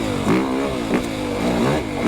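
A 2025 Yamaha YZ450FX dirt bike engine revs hard while being ridden, loud and close, with repeated throttle blips rising and falling in pitch over a steady four-stroke drone.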